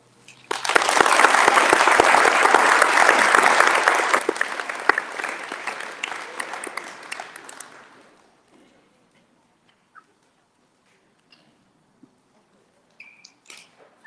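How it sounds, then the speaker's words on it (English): Audience at a community State of the District gathering applauds loudly for about eight seconds, then the clapping fades out, leaving quiet room sounds with a few faint clicks. "Can we give Precious another round of applause?"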